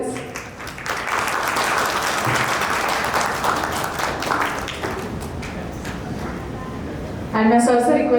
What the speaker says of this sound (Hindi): तालियां हो जाए फ्रेंड्स।